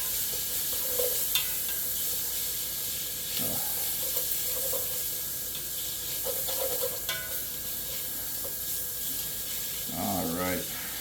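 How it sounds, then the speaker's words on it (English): Bacon sizzling in a pan, stirred now and then: a steady hiss of frying with occasional scrapes and clicks of the utensil, and a short voice-like sound near the end. "Give our bacon a little stir."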